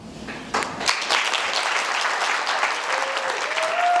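An audience applauds at a monologue competition final, a dense steady wash of clapping that holds at full strength throughout, with a faint tone creeping in near the end.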